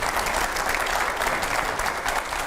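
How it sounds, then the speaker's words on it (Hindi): Studio audience applause welcoming a guest at a televised interview event, dense and loud, with clapping sustained evenly from start to finish. "आइए जोरदार तालियों से स्वागत करें जयशंकर सर का।"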